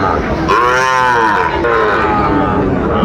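A Sahiwal bull calf at a cattle market in Dinajpur gives one loud, drawn-out moo close by, over a constant murmur from the market crowd.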